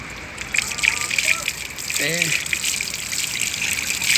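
Water running from a Zamzam drinking-water point at the Haram in Mecca during rain: a steady, close splashing trickle that fills the clip, with a brief voice sounding partway through.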